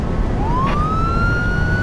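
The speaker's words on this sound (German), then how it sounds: "Streifenwagen bitte ran." A police car siren from the video game Beat Cop wails in a single rising sweep that climbs and then holds steady, loud and close over a constant low rumble of street noise.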